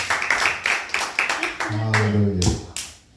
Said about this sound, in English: Y'all give him another hand clap of praise